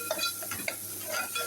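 Tomato and coriander are stirred in gravy in a pan, with soft sizzling under quick scraping and clinking strokes of a spoon against the cookware, close and moderately loud.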